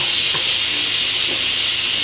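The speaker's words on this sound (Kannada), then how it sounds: "ಇವಾಗ ಇದು 2 ವಿಜಲ್ ಆಯಿತು." A pressure cooker cooking vegetable kurma vents steam in a loud, continuous, close hiss that stays even throughout, with no voices over it.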